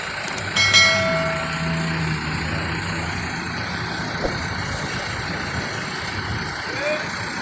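Rosalia Indah HDD 441 executive-class bus on the Madiun–Solo–Lampung route sits in a spacious parking lot, its engine giving a steady low idling rumble with a brief louder tonal burst near the start and faint voices in the background.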